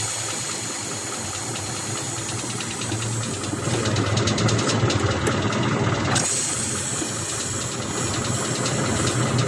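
An idling car engine with a leaking clutch booster gives off a steady, close mechanical drone laced with a continuous airy hiss, rising slightly in the middle, with no talking.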